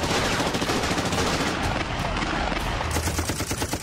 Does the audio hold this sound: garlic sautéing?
no